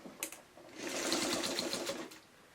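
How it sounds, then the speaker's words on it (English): A sewing machine runs one steady burst of about a second and a half, stitching a seam on a simple tote bag. It is close and fairly quiet, with no talk. "I'm going to just quickly give it a quick sew"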